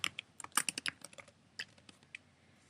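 Rapid bursts of keystrokes on a computer keyboard while text is entered into a text tool, clustered clicks up close followed by a few scattered taps, no voices.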